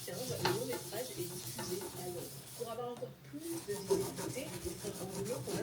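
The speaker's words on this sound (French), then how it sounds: "J'essaie de frotter au mieux." An old mirror is rubbed clean by hand with metal polish, a soft rhythmic scrubbing heard close and quiet while someone talks over it.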